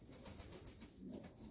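A breeding pigeon coos in a soft, low, throaty burst, close but quiet, in a short stretch with no talk.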